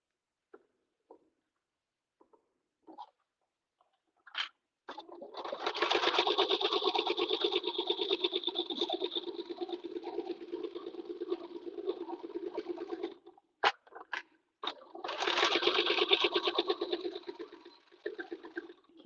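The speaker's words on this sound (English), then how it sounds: "we're just gonna stitch our gusset together here" Sewing machine stitching the gusset of a backpack tote, starting after a few soft clicks, then a long, steady, close mechanical rattle, a brief pause with clicks, and a second shorter run.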